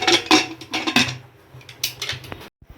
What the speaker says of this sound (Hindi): अब इसका ढक्कन लगा रही हूँ।